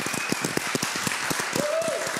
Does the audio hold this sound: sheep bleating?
no